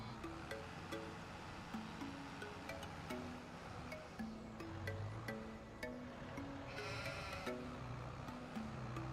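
Sheep bleat repeatedly in Farming Simulator 25, a steady series of calls over a constant wind-like ambient bed, with a brief brighter burst of noise partway through.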